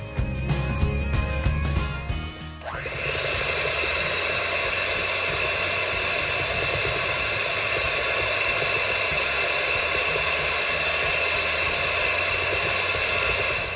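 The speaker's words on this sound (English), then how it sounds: "I'm going to start beating the eggs" An electric beater whirs through eggs and sugar in a steady, continuous high-pitched hum after a brief burst of noise at the start, loud and close with no talk over it.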